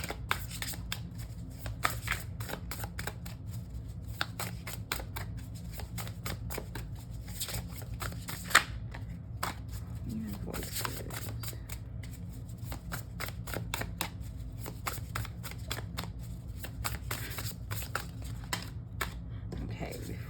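Tarot cards shuffled by hand, a steady stream of quick papery riffles and soft slaps running the whole twenty seconds at a close, moderate level over a low room hum.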